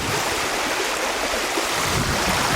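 Flooded river after Hurricane Dorian rushing under a small bridge near an elm tree, a dense, steady roar of churning water filling the whole moment with no voices.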